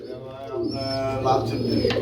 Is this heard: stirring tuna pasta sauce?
no